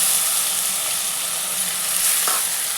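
Green beans sizzle and fry steadily in a hot pan in a home kitchen, giving a bright, constant hiss close up with a faint stir near the end.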